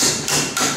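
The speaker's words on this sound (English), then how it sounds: "I'll take a black cap and the hammer." Three quick, solid hammer blows drive a black plastic cap onto the axle of a hydro cart wheel, close and loud with a dull ringing tone.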